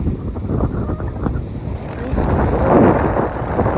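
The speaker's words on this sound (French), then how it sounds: "Il y a beaucoup de vent là-haut" Strong wind high up in Yosemite roars and buffets the microphone continuously, a dense low rumble that swells louder toward the end.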